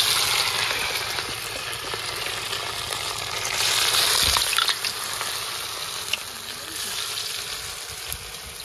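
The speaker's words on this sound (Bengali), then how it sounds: "এবার মাছগুলো দিয়ে দেবো।" Bhetki fish frying in hot white oil in a wok, a loud, continuous sizzle with occasional stirring knocks and no talk.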